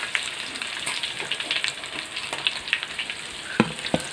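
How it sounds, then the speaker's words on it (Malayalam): Pieces of chicken sizzle steadily in a hot pan for a Kozhikode-style chicken biryani, with a few sharper clicks and scrapes near the end as the pieces are turned over. "ഇനി നമുക്ക് ചിക്കനൊക്കെ ഒന്ന് മറിച്ചിട്ട് കൊടുക്കാം."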